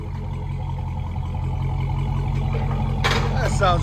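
A Dodge Challenger Hellcat 6.2L HEMI V8 with Black Widow Race Venom exhaust idles with a deep, steady rumble, joined near the end by a brief burst of louder noise.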